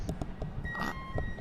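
Pit lane warning beeps in the iRacing game on the Mid-Ohio road course as a car comes down pit lane, a few short, faint tones over a low engine hum.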